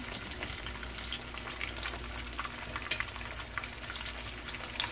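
Breaded fish frying in a pan, a steady close crackling sizzle with occasional sharper pops throughout, no voices.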